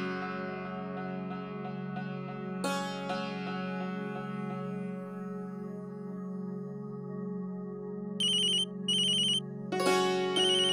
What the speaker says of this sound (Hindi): आपका फोन बज रहा है शायद